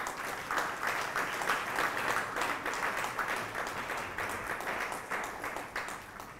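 Continuous audience clapping at an annual academic symposium, many hands applauding at a steady, moderately loud level with slight fluctuations, no one talking over it.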